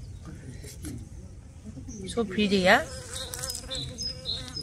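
Bees buzz and drone nearby in a garden in Belgrade, Serbia, one loud close pass swelling and fading, while a person speaks briefly over the humming.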